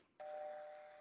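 A doorbell rings once: a single sustained electronic chime tone that starts sharply and rings on steadily, close and clear with no talk over it.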